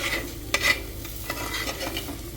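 Fish curry being stirred in a pan as it thickens: repeated scraping strokes of a spoon against the pan over a soft, steady sizzle, close and moderately loud, with no voices.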